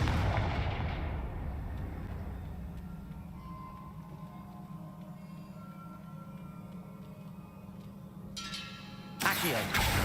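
A Confringo spell explosion in the video game Hogwarts Legacy hits with a loud boom, followed by a sustained low rumble that lingers before another sharp burst near the end.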